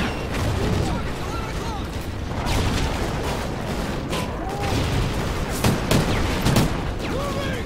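Call of Duty: Ghosts gunfire rattles in rapid bursts and repeated shots with mechanical clatter, loud and continuous; a voice talks under the shooting.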